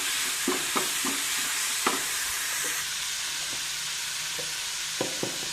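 Dill leaves and curry leaves fry in hot oil for dill-leaf chitranna rice, giving a steady, soft sizzle. Occasional clicks and scrapes of a stirring spoon sound against the pan.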